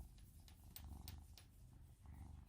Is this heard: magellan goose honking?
no